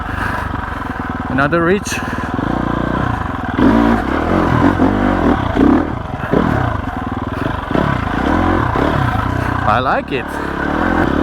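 A 2021 GasGas EX 350F dirt bike pulls away in first gear over rocky ground, its engine revving and burbling steadily throughout under close, ongoing talk.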